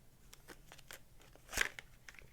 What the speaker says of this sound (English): Shuffle the cards a little bit more here.